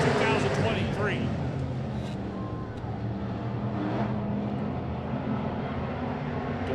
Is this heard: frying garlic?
no